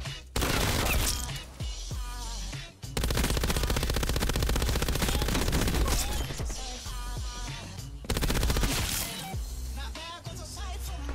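Sustained bursts of MG 82 light machine gun fire in the video game Call of Duty Cold War, rapid loud rattling volleys with short breaks between them and scattered impact and crash sounds around them.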